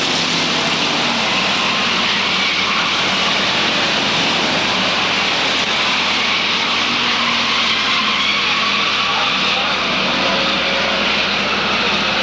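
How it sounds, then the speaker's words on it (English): Pure stock race cars lapping an oval track at Waterford Speedbowl, a continuous loud roar of engines and tires from a distance, steady throughout with no clear gaps. "Looks to get the car back up to racing speed as Coates looks to click off lap number 36."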